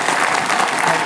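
Steady, dense applause from a large crowd, loud and continuous throughout with no pauses.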